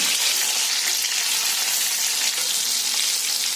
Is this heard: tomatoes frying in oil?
yes